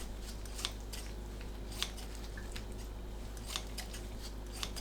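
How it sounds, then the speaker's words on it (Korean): Kitchen scissors snip through soaked, squeezed seaweed (miyeok): a handful of crisp, separate cuts spaced about a second apart over a steady low hum. "가위로 미역을 자릅니다."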